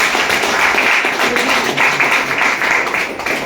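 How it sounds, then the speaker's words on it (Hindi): An audience at a direct-selling business seminar applauds, a steady, even wash of many hands clapping at once that holds for several seconds without speech. "मैं चाहता हूँ उनके लिए जोरदार तालियां होनी चाहिए, जबरदस्त तरीके से।"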